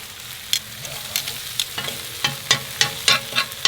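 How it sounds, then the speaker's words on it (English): Lamb shoulder chops sizzle loudly in a hot pan, with sharp crackles and spitting pops bursting irregularly over a steady frying hiss. "Sizzle, sizzle, sizzle."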